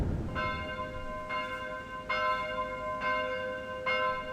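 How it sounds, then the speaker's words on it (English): Church bells of St. Jacob's Church in Herxheim am Berg, a German town, ring the midday call, with bright, sustained tolls struck about every second, clear and steady over a low outdoor rumble. "The bells of St. Jacob's Church in a town called Herxheim am Berg, sounding the midday call."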